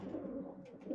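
Pigeons inside a loft make a low, steady coo that carries through the whole short moment, close and fairly soft, with no voices.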